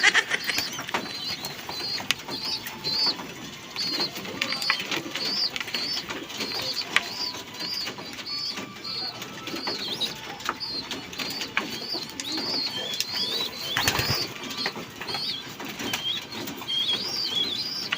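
Pigeons flutter and flap their wings in a busy, continuous rustle, with soft cooing and bird calls mixed in throughout.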